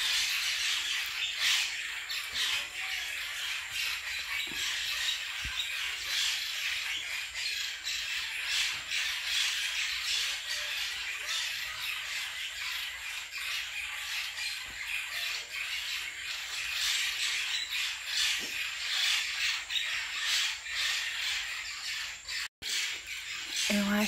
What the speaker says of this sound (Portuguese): É um periquito muito grande, eu acho que é papagaio.